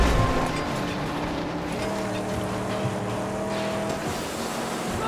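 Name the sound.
fast car engine in the video game Mad Max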